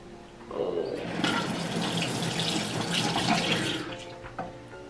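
Water runs from a bathroom tap into a sink for face washing, a steady rushing splash that starts after a short pause, holds for several seconds, then tails off, close by with no talking.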